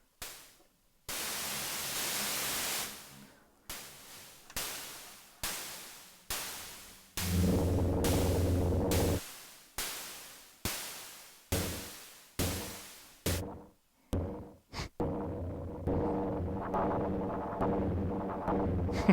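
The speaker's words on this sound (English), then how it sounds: "This wave folder sounds really nice." An SSF Entity percussion synthesizer run through a wave folder fires repeated harsh, noisy bursts, some long and hissing, others short and clipped with pitched ringing tones, in an uneven rhythm with brief silences between hits.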